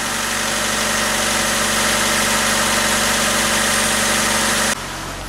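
A car engine idles steadily and loudly up close with its idle air control valve unplugged, a constant low hum and vibration, then the sound drops abruptly near the end.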